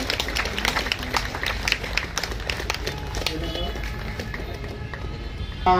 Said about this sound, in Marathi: जोरदार टाळ्या वाजवा सरांसाठी